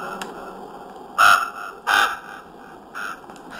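Crow cawing in three harsh calls, two close together and a fainter third, loud and near against a quiet background.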